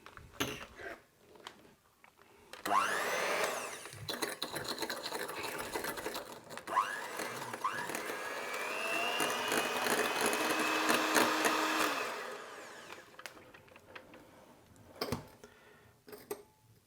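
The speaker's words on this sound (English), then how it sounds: "I'm gonna whip this egg yolk." A steady electric mixer whips egg yolk for several seconds, its motor pitch wavering slightly, with quieter clinks and rattles before and after.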